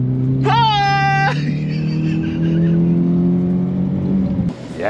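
A BTCC Peugeot 406 race car launches down a drag strip, its engine climbing sharply in pitch for about a second, then settling into a loud, sustained roar close by until it cuts off near the end.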